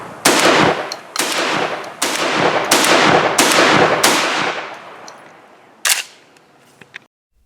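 A Benelli M2 Super 90 shotgun fires six loud, close blasts in quick succession, each with a sharp crack and a decaying echo, and a faint click follows at the end.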